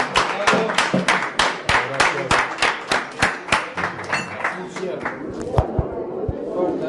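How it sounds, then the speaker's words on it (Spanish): Brief audience applause at a Peronist talk on cooperativism, a run of distinct claps that thins out, with voices talking over the tail. "Un aplauso."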